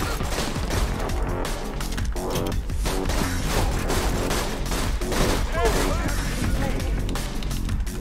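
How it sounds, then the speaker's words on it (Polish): Dense, continuous gunfire fills a Borderlands 2 firefight, with rapid overlapping bursts and impacts throughout, while players talk over the shooting. "Gdzie jeszcze ktoś strzela, kurde?"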